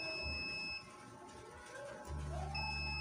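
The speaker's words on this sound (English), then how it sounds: "Ayan, nag-buzzer siya." A high, steady electronic beep from a multimeter continuity tester sounds twice, cutting out in the middle, while checking a shorted TV horizontal output transistor, over a low background hum and some handling noise.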